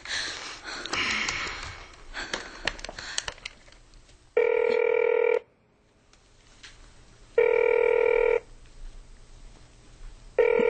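A telephone rings loudly three times with silent gaps between rings. Nobody picks up, and there is some rustling and shuffling before the first ring.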